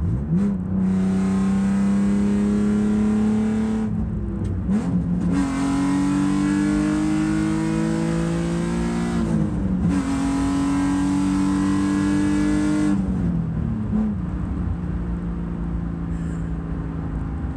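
A Nissan 350Z fitted with a Bell Raceworks rear diff brace accelerates hard through the gears, its engine note climbing in pitch with each pull and dropping briefly at three clear gear changes, loud and close.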